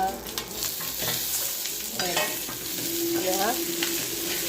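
Goat meat masala roasts on a tawa and is stirred, producing a continuous close sizzle with scraping spatula strokes and a few brief squeaky metallic scrapes.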